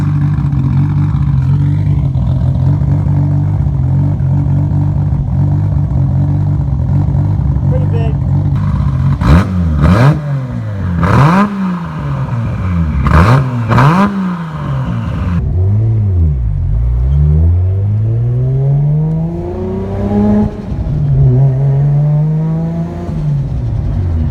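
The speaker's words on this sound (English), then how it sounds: "They built this exhaust on this car here." A turbocharged Nissan engine with a 4-inch stainless straight exhaust revs in loud, rising bursts with sharp throttle blips, then pulls away in long sweeping acceleration, with a steady idle rumble underneath.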